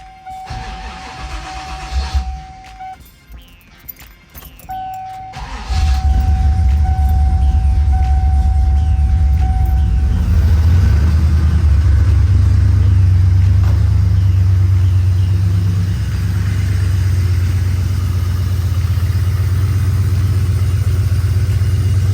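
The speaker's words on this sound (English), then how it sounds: "So let's do a cold start now." A car cold-starts after a coolant hose was swapped for a rubber one: a tonal whine first, then the engine catches and settles into a loud, steady low rumbling idle that continues alone.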